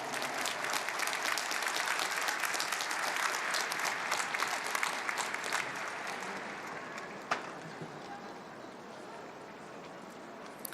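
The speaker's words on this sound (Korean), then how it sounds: "뜨거운 박수로 격려하겠습니다" Sustained applause from a large crowd at a joint prayer meeting, steady and dense for most of the stretch, gradually thinning toward the end.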